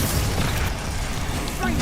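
A Confringo explosive spell goes off in Hogwarts Legacy, a dense, loud burst of booming, crackling noise filling the whole moment amid game sound.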